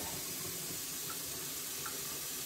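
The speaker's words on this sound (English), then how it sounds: "turn on the faucet" Running water from a kitchen faucet fills the removable water tank of a Jura Z5 coffee machine, a steady, faint hiss and splash holding evenly throughout without speech.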